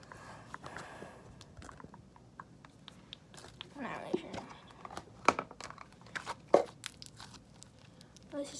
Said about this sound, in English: Let's play with the slime.